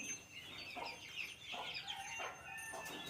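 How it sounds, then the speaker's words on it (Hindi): A hen with about forty chicks clucks and cheeps in a steady, busy chatter, many small high-pitched peeps overlapping close by with short louder calls rising at intervals. "एक मुर्गी 40 चूज़ों के पास आ गया हूँ मैं"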